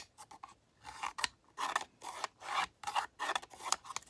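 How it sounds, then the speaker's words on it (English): Pencil scribing a line along the bottom of an oak board for a miter box, a series of short raspy scratching strokes in an uneven rhythm, close and fairly quiet. "I'm going to scribe the bottom."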